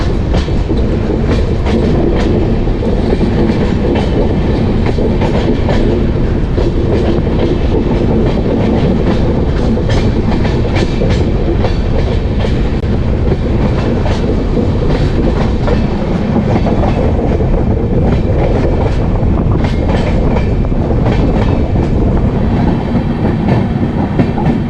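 Vivek Express passenger train running on the rails, a loud, continuous rumble with steady clickety-clack of wheels over rail joints throughout, close and unbroken, with no voices.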